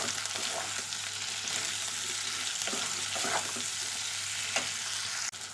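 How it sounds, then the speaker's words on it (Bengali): Frying in a pan with salt added, a steady close sizzle broken by occasional stirring scrapes, ending in a sharp knock near the end. "এবার একটু ভালো করে নেড়ে নেবো"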